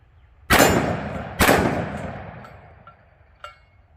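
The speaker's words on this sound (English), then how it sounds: "Let's just give it a shot with a double tap real quick, or a controlled pair" Two sharp, loud pistol shots from a 1911 chambered in .40 Super fired as a quick double tap about a second apart, each cracking hard and ringing off into a fading outdoor echo, followed later by a faint metallic clink.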